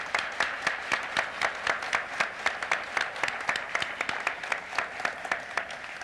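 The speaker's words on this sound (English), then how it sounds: "Let's give them a round of applause." An audience at a 1997 corporate awards banquet applauds steadily, with dense, even clapping that fills the room for several seconds without a break.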